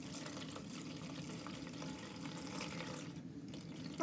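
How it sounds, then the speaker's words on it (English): Liquid pouring steadily into a 1978 DT400 gas tank being filled to the brim to coat rust, a soft continuous trickling fill that briefly thins near the end. "I'm going to try to fill it up all the way to the brim so I can get all the rust coated."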